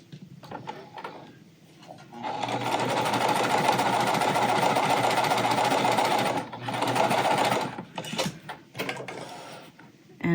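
A sewing machine stitches quilt pieces in a long steady run, a close mechanical whir that starts, holds for several seconds, then breaks into short bursts and stops.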